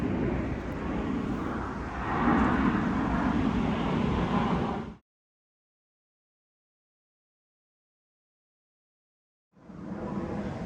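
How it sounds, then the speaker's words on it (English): Broadband roar of a fixed-wing airplane passing overhead near a parked camper van, loud and steady for about five seconds, then cutting out to silence before resuming. "And now we're dealing with another plane."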